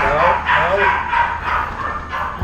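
Labrador dogs bark in a quick series of nearby woofs and yips over roughly two and a half seconds, with voices talking at the same time.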